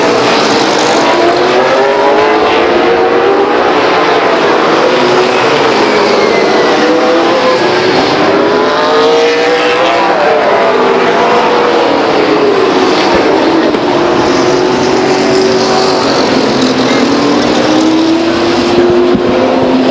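Race cars roar around the Stockton 99 Speedway oval as the leader, Brent Seitz in the 33 car, spins in turn 2, engine pitches sweeping up and down, loud and continuous, with no talk.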